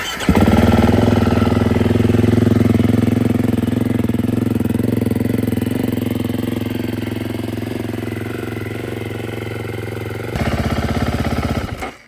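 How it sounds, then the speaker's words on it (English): A 2025 KTM EXC-F four-stroke dirt bike is cold-started in the snow and settles into a loud, steady idle. The idle eases slightly over several seconds, then rises in a brief revving burst before it shuts off. "now it's time for a cold start. I don't know if I'm gonna enjoy the sound of a 4-stroke"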